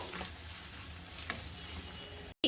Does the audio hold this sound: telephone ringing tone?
no